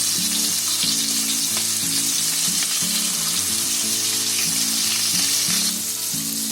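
Fish frying in oil on a tava, the pan shaken now and then; a loud, steady crackling sizzle runs throughout with a low hum beneath it.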